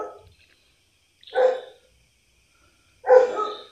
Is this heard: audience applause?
no